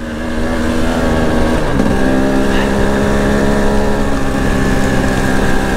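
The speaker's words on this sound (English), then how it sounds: "Just me and all my friends riding our bikes." Enduro motorbikes riding through mud, rain and fog, engines droning steadily and loudly with a brief shift in pitch partway through, no voices.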